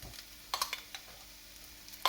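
Whole grain mustard being mixed into onion gravy in a pan: a quiet low sizzle under a few sharp scrapes and clinks of a spoon against the pan, spaced irregularly and close.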